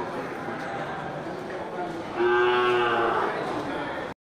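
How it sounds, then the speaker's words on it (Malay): A single mini Aceh cow moos loudly and drawn-out midway through, over steady outdoor background noise. "terlihat beberapa ekor sapi Aceh mini ya, sapi kecil"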